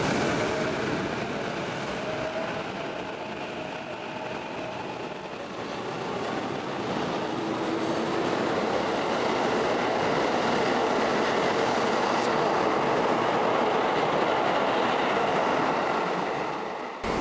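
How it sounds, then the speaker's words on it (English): A train pulls out from platform 8 at Shinjuku Station with a broad, steady rumble and rushing hiss that builds gradually and stays fairly loud throughout, with a faint high whine above. "Another train is leaving Shinjuku Station here on platform number 8"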